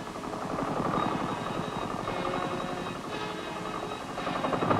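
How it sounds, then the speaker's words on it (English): A helicopter working in a harsh environment of thin air and freezing cold passes overhead, its rotor thumping in a continuous loud pulse over a dense engine roar. "The helicopter is the aerial workhorse here"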